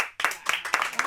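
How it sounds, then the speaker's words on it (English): A small, polite round of applause from an audience at a talk about birth, with a few distinct, moderately quiet claps in a loose rhythm over about a second. "That sounds like a polite round of applause"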